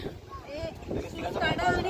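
Strong wind roars and buffets the microphone in a steady broadband rush at Dandi beach in Navsari, Gujarat, with voices talking over it.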